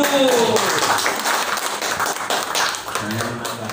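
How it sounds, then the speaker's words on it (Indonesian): An audience at a school training session claps hands, a dense burst of clapping that continues steadily for a few seconds, close and loud, with a voice briefly audible at the start. "Tepuk tangannya dulu."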